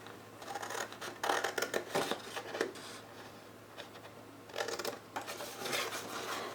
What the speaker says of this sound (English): I'm just using a pair of scissors.